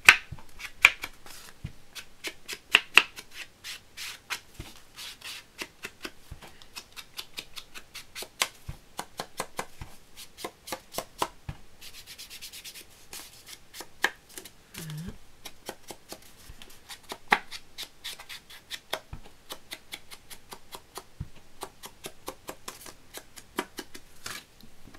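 A paper greeting card's edge is inked with an ink pad for a handmade craft, giving a long run of quick, soft dabbing and tapping strokes, close and fairly quiet, irregular in rhythm.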